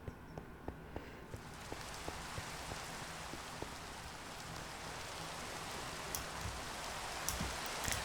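Steady rain from the Minecraft video game in a snowy area at the edge of rainfall, a soft continuous hiss with a few light tapping drops early on, growing slightly fuller as it goes.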